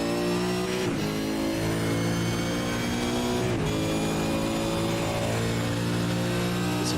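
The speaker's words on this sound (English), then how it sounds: "Listen to that V8 roar as he runs down this back straight." A V8 Supercar in a racing video game roars at high revs along a straight, loud and continuous with sustained harmonic engine drone and brief gear-change dips, no voices.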